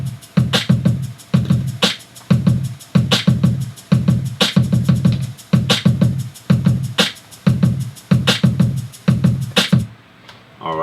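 A programmed drum beat of snaps, snare and shakers loops in a steady, punchy groove. Sharp hits fall on a regular rhythm over dense low thumps, loud and close, and the beat stops abruptly near the end.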